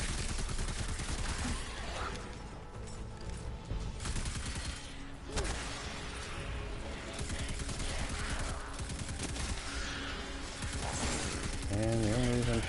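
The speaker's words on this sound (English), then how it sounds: "the only reason I'm shooting is for an orb" Gunfire in the video game Destiny 2, a dense run of repeated shots and mechanical clatter at moderate loudness, with a voice briefly talking near the end.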